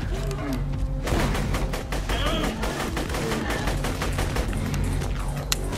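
Sustained automatic gunfire in Borderlands 2, a rapid rattling stream of close, loud shots with heavy recoil, running almost continuously with a brief lull near the start and a voice faintly underneath.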